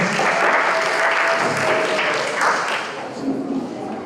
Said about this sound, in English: please give Miss White another round of applause